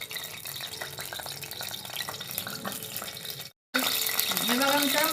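Oil poured into a heated thick kadhai crackles with a hissing, watery sizzle that runs under a voice, breaks off briefly, then resumes louder.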